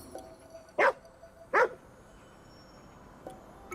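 A dog in the video game Ghostwire Tokyo gives two sharp, close barks about a second apart, followed by a faint third yip, over quiet ambient background.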